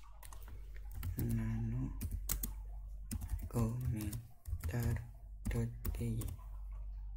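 Computer keys tap in short, uneven bursts while a person talks over the clicking. The typing is quiet and close.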